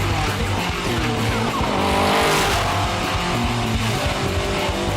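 A loud Prodrive P2 car engine roars and revs close by, with tires squealing and skidding over a continuous rumbling drone.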